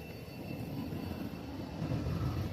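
F-35 fighter jets fly by with a steady, distant low roar of jet engines that builds slightly toward the end.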